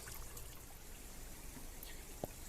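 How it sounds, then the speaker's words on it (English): Water trickles and drips steadily into rock-enclosed pools in a Zen garden, a soft, continuous flow with one distinct drip near the end, faint and with no one talking. "sitting quietly by the pools and hearing the dripping water"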